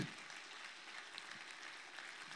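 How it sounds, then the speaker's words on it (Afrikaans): A church congregation applauding for Jaco after an Afrikaans sermon, a steady, distant wash of clapping that holds evenly throughout without a clear peak. "Kom ons staan, ons klap met hande vir Jaco."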